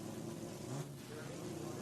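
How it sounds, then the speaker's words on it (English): Drag racing cars idle and inch forward at the start line, a steady loud engine drone with a slight rise partway through under crowd and track noise. "both these drivers will inches their cars forward here."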